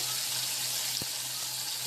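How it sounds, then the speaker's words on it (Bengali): Prawns fry in a pan with a steady, close sizzle and crackle of hot oil, uninterrupted and without voices. "ভাজা হয়ে গেছে মাছগুলো চিংড়ি মাছগুলো আবার উল্টে দিলাম"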